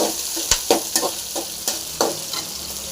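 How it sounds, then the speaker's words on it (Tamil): Ginger and spices frying in a pan for a kuppaimeni herb soup, a steady close sizzle broken by several sharp scrapes and knocks of a spoon stirring. "இஞ்சி போடலாம் இதெல்லாம் போட்டு நல்லா ஃப்ரை பண்ணலாம் நல்லா ஃப்ரை ஆகட்டும்"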